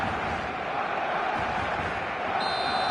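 Matchday crowd at an evening stadium in a football video game, a dense, constant roar of spectators with a faint chanting texture, loud and unbroken throughout.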